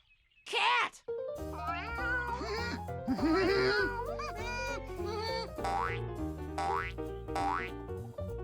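Cartoon cat meowing in a children's animal-learning segment, several rising meows and a springy boing over bright background music, fairly close and clear after a short loud burst at the start.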